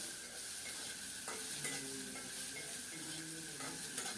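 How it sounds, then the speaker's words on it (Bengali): Onions dropped into hot oil with garlic and green chilies, sizzling steadily while a spatula clinks and scrapes against the pan a few times, close up with no voices. "রসুন আর কাঁচামরিচ সুন্দর মতো ভাজা হলে পেঁয়াজ দিয়ে দিলাম"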